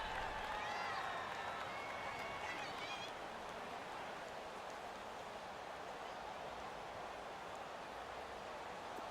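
A stadium crowd in Madden NFL 19 roars in a steady, dense wash of noise throughout, with voices talking over it early on.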